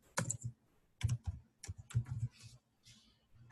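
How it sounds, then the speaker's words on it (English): Computer keyboard keys tapped in short bursts of clicky strokes, a few quick clusters separated by brief pauses, close and alone with no talk. "I'm going to delete this and I'm going to type in account"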